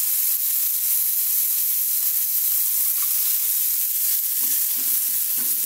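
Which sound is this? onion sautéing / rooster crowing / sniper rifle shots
onion sautéing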